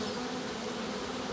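Honeybees buzz in a dense, steady drone, many insects humming together close by with no pauses.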